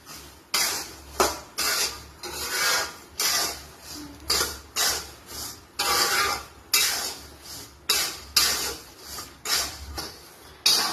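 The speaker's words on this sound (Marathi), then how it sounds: "आता आपण ह्यामध्ये आपले हे उकळून घेतलेले शेंगदाणे टाकूयात आणि एक 10 मिनिटांसाठी आपण याला खमंग भाजून घेऊयात" Boiled peanuts are stirred and roasted in hot salt in a pan, making a rhythmic scraping and rattling that repeats roughly every second, close and fairly loud with no talk.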